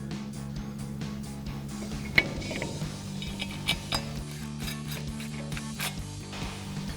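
A T30 Torx bit drives a brake rotor retainer screw on a 2020-2026 Chevrolet Silverado 2500 during an 8-lug brake job. A driver gives a steady train of fine ratcheting clicks close up, with one sharp clank and scattered metallic ticks.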